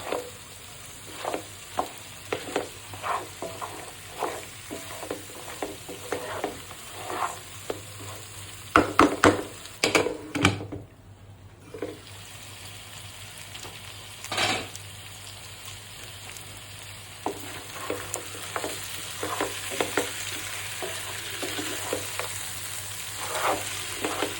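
Beef sizzles and fries in a pan over low heat, a steady crackle with frequent scraping stirs and clinks of a spatula; no one speaks.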